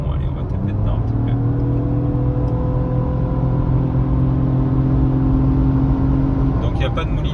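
Lexus LBX small crossover engine while driving, a steady droning hum with rising whine that holds constant and fairly loud from inside the cabin, with no talking over it.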